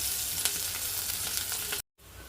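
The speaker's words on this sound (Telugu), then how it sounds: "కొంచెం పొయ్యి మీద బాండీ పెట్టుకొని కొంచెం ఆయిల్ వేసుకోండి. మనం తరుక్కున్న ఉల్లిపాయ ముక్కలు, పచ్చిమిరపకాయ ముక్కలు వేసుకోండి." Chopped onion and green chili pieces frying in oil in a kadai for quick noodles, a loud continuous hiss with a few light stirring clicks before a sudden cut to near silence.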